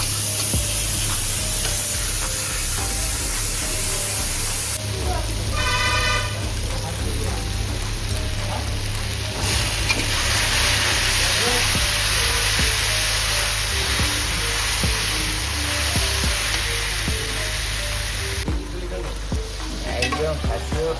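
Onion fries with ginger, garlic and green chili paste in an old hotel kitchen, a loud, steady sizzle mixed with stirring scrapes, with voices and kitchen noise in the background.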